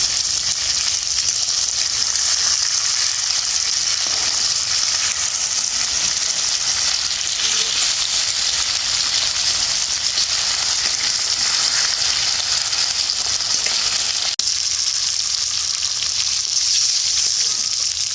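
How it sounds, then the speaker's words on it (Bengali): Pieces of hilsa fish frying in hot oil make a steady, even hiss that goes on for the whole stretch, fairly loud and close, with no voices. "মাছটা এপিট ওপিট করে একটু ভেজে নিয়ে নামিয়ে নিচ্ছি"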